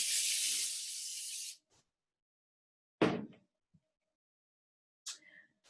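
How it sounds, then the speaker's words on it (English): A long hissing burst from an aerosol can sprayed onto the fabric back of a pelmet, then a short second spray and a brief third puff, with quiet gaps between. "I'm now going to spray the back of the pelmet violin."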